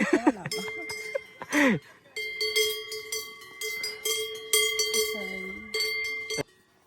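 Several cowbells on grazing cows in Grindelwald, Switzerland, clank and jingle steadily over a few seconds, with a loud close animal call near the start and faint voices in the background.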